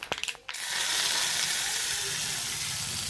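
Hot tempering oil with mustard seeds, red chilies and curry leaves is poured onto chutney. A few sharp clinks come first, then a loud, steady sizzle bursts out and carries on close, with no voice over it.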